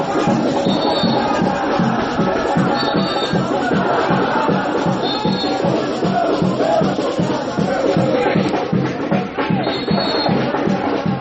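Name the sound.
Danúbio football supporters cheering and celebrating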